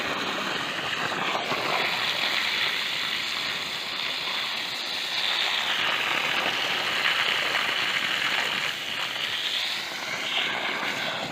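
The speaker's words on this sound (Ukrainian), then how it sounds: "Хай наповнюється борозинка водою." Water runs steadily into a dry garden furrow between rows of pepper plants, a continuous close rushing flow with a faint mechanical whine above it, no speech.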